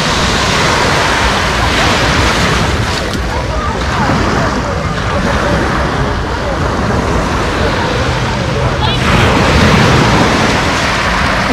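Sea surf at the beach in Lazarevskoye, Sochi, rushes and hisses in a loud, continuous broadband roar, close by, with wind noise mixed in and a faint voice underneath.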